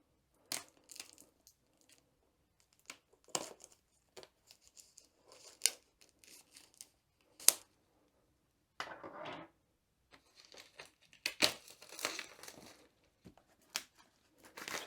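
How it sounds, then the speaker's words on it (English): Crinkly cellophane wrap being cut with scissors and torn off a diamond art kit box, with sharp snips and scattered crackling bursts separated by short pauses. "the first thing we have to do is remove the cellophane"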